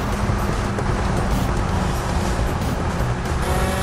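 A giant truck drifts in a police car demolition video game, giving a continuous engine drone and a road-noise hiss at moderate loudness, steady throughout with no talking.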